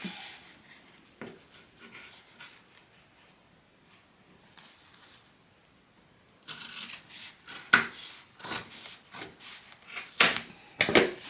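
Scissors trim a fabric bag piece, giving a few faint rustles at first, then a run of louder crisp snips and crinkly fabric handling close by.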